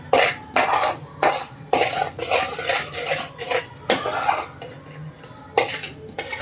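Wheat flour sheera stirred in a pan with ghee, a spoon scraping and clinking against the metal in repeated strokes with short pauses between, close and fairly loud, with no talking.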